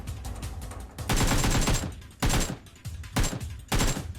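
Gunfire in the mobile battle game PUBG Mobile comes in four loud, close bursts of rapid shots, separated by short quieter gaps.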